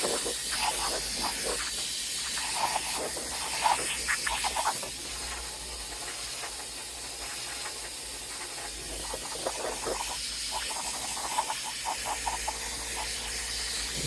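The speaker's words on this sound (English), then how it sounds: "We will fire up our air gun on low mode and make this dry faster." An air gun on low blows a steady, close hiss of air to dry wax on a 1979 Les Paul Custom guitar, continuous throughout with slight surges and no talking.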